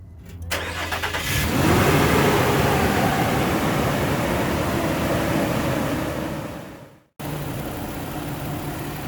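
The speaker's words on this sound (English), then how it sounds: "So now you see that the engine is running at the operating temperature." A 2006 Nissan Pathfinder with the 4.0 engine, freshly fitted with a new fan clutch, cranks and fires up, then runs loudly and close with a roaring fan rush before cutting out and resuming at a steadier idle.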